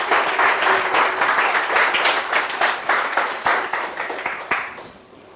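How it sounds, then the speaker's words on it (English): Loud, close audience applause, many hands clapping in a dense burst that holds steady and then thins out into a few final scattered claps. "Give yourself a round of applause."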